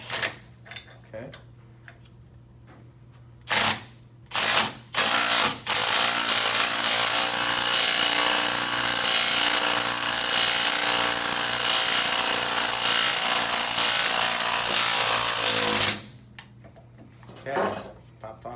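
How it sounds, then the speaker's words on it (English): A wrench loosening a nut on the pulley of a disassembled JF011E CVT transmission: a few short bursts, then one long, loud, continuous whirring run of about ten seconds that stops abruptly. "We'll use a wrench to hold this nut to the slide."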